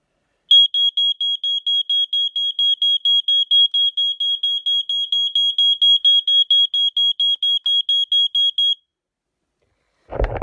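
A smoke alarm beeps rapidly and steadily in a long run of loud, evenly spaced high-pitched chirps, then stops.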